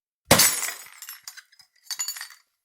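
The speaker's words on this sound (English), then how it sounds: "put her horns right through the glass" Glass window shattering as an animal's horns smash through it, a loud crash followed by scattered tinkling shards falling in two bursts, with no voices.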